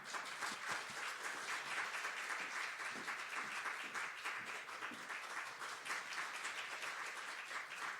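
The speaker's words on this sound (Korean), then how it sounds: "우리 에드워드 김 선교사님 오실 때 큰 박수로 환영하도록 하겠습니다" A church congregation applauds to welcome a missionary, broad sustained clapping from a large crowd at a steady, slightly distant level throughout.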